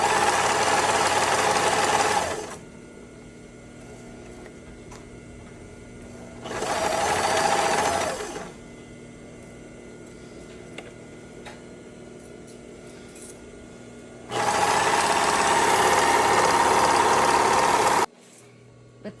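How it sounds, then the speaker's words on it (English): A serger sewing machine stitches an elastic skirt waistband seam in three loud, steady whirring bursts of a few seconds each, separated by quieter pauses. "With the serger, it binds the edge and the actual seam has stretch."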